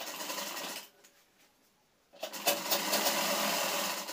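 A sewing machine stitches a pant back pocket in a steady close whir that pauses briefly and then starts again.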